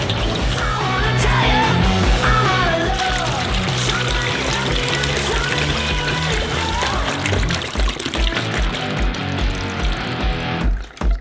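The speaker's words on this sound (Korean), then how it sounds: "팩에 든 달걀을 열고 대접에 부어주세요." Dozens of eggs from egg packs pour into a large bowl for a giant homemade Kinder Bueno cream, giving a continuous wet glugging and sloshing. It is loud and close, with faint clatter toward the end.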